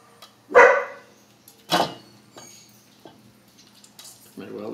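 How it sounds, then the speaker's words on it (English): A dog gives a few sharp, loud barks spaced apart in a kitchen, near and clear, with faint clinks and rustles between them and no talking. "My well-behaved dog."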